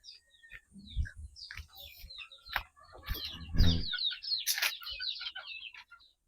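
Gamefowl chickens cluck and call while being fed, with a scatter of short clucks and chirps building to a louder burst midway, close by, along with some rustling and pecking noise.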